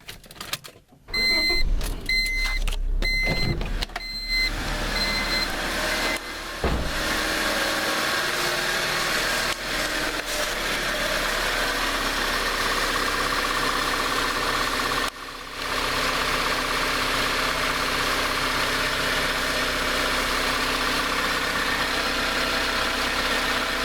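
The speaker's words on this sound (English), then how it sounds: "I'm gonna turn on the car," A few clicks and a short burst of starting, then a 1996-2000 Honda Civic engine settles into a steady, even idle that runs for the rest.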